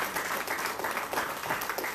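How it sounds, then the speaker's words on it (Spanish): A church congregation claps together in a continuous, even wash of hand claps that fills the space at moderate volume. "¿Cuánto le dan un aplauso al Señor en esta hora?"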